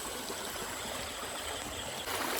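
A small stream running full of water flows with a steady, even rush, faint and close, with no voices over it.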